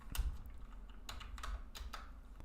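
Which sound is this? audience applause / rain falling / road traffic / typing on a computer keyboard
typing on a computer keyboard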